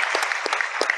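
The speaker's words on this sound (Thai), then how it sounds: "ก็ขอเสียงปรบมือต้อนรับท่านอาจารย์วรพรอีกครั้งหนึ่งครับบนเวทีครับ" Brief, close audience clapping at a Thai rubber-industry standards panel discussion welcomes a speaker back onto the stage, with scattered sharp claps over a bright wash of hands.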